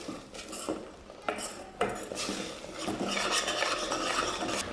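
Garlic and onion frying in oil over medium heat, stirred with a spatula that scrapes and clacks against the pan, followed by a steadier sizzle building toward the end, close and clear.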